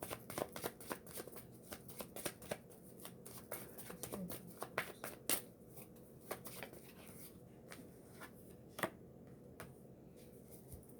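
Tarot cards being shuffled by hand at close range, a long run of quick riffling flicks and soft card slaps with brief pauses, fairly quiet and with no one talking.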